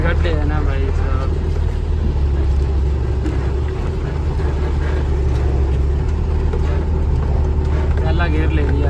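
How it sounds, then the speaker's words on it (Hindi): Loaded truck crawling in first gear over a heavily potholed road, its engine giving a steady, loud, low drone with rattling rumble throughout while someone talks over it. "पहला गियर ले लिया गाड़ी, क्योंकि लोड गाड़ी और गड्ढे आए हुए बाबा बहुत ज़्यादा।"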